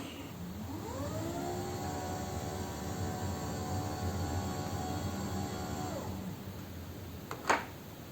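Electric motor of an AIMEZO height-adjustable desk frame with three-stage telescopic legs whirs steadily as the desk rises to maximum height, a droning hum lasting several seconds before stopping, followed by a brief clack.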